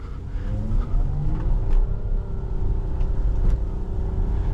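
A car drifts with its engine revving and droning, a loud, steady motor rumble with shifting pitch and faint squeals over several seconds, and no talking.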